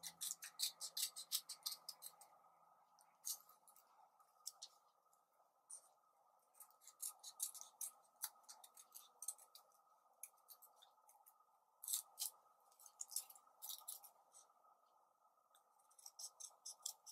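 Scissors snipping incisions into paper, a long run of crisp, quiet cuts in irregular bursts with short pauses between, close and alone.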